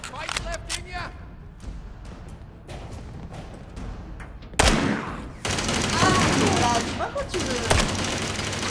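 Gunfire from Fallout 4 gameplay: scattered sharp shots early, then a loud burst at mid-clip followed by dense, continuous rapid fire, with a voice talking over parts of it.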